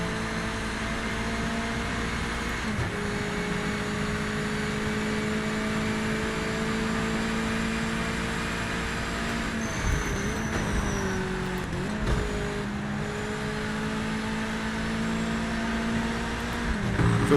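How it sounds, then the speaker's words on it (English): Mazda race car in the Project Motor Racing video game, its engine droning steadily and loudly throughout with sustained harmonic whine and small pitch shifts as the revs change, no talking over it. "Get these tyres warm. I'll be honest, even this Mazda feels different."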